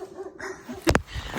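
A dog lets out a couple of quick, sharp barks close by, standing out briefly against a quiet background.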